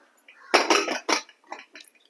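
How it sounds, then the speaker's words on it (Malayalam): A pressure cooker lid is set on and locked shut, giving several close metallic clanks and scrapes in quick succession, then a few softer taps. "കുക്കർ ഞാൻ അടച്ച് വെക്കുന്നുണ്ട്"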